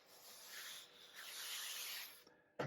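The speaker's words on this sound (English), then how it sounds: "60 grit using the random orbital sander, and that was mostly to get rid of, there was some glue residue along the seam there" A random orbital sander with 60 grit paper sands glue residue off a seam on a kit build. The rubbing is soft and steady and continues for about two seconds, then ends with a short sharp click.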